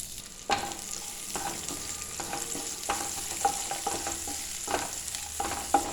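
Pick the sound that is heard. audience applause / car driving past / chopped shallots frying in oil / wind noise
chopped shallots frying in oil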